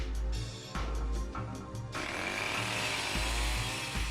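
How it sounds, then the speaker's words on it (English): A video game chainsaw revving near and loud, with short buzzing bursts at first, then a sustained, steady whine after the engine picks up. No voices. "That's a chainsaw."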